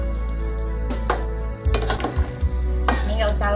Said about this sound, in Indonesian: Kita cemplungin semua. Kita aduk dulu sebentar ya.